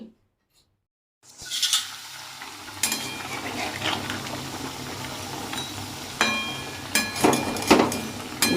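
After a moment of silence, hot oil starts sizzling and crackling as gram-flour batter for coriander-leaf pakoras is dropped in, a steady frying hiss with sharper pops and spatters.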